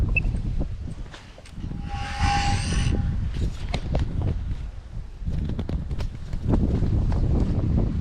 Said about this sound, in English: It is windy. Holy shit, it's windy.